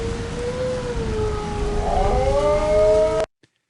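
Wolves howl in a long wavering tone that slides slowly in pitch, a second voice briefly joining near the end, heard over a broad hiss of background noise before cutting off sharply.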